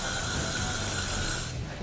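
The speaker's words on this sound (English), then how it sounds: "what I'm going to do is just spray it" Hairspray is sprayed from a can onto back-combed hair in one sustained, close, loud hiss that fades slightly near the end.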